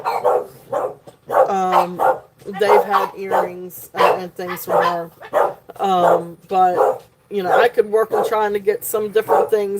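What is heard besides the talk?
dogs barking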